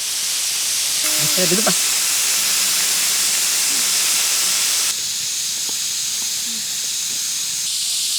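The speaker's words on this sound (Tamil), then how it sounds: "அந்த மூங்கில் உள்ள அப்படியே பிரியாணி வந்து கொதிக்கிற சவுண்டு கேட்குது" Biryani with mutton balls boiling inside a bamboo tube over glowing embers, a steady loud hiss of escaping steam with faint bubbling and crackles, briefly joined by a voice early on.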